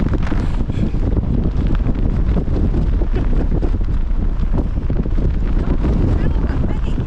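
Strong wind buffets the microphone on the open top of Wansfell fell above a lake in Cumbria, a loud continuous roar and rumble that stays close and steady throughout.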